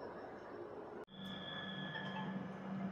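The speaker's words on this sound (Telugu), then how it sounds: "మన ట్రైన్ అయితే 5:45 అయితే ఎగ్జాక్ట్ ఆన్ టైం అయితే స్టార్ట్ అయిపోయింది" Inside a coach of the Puri-Howrah Shatabdi Express leaving Puri station, a steady low rail rumble and hiss carries on with one sharp click near the start and faint tonal whines above, with no clear voices.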